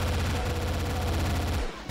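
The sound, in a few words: SMG gunfire in video game (Doom map)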